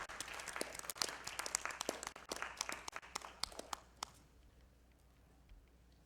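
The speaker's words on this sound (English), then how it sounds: "Please, let's give Nancy a round of applause." Hands clap for Nancy at an awards ceremony, scattered sharp claps from a modest audience that fade out after about four seconds, leaving quiet room tone.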